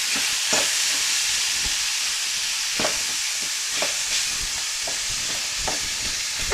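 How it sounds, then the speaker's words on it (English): Ground meat for poultry stuffing sizzling and frying in a pan while being stirred, with a steady loud hiss and scraping strokes every second or so. "let me stir this around."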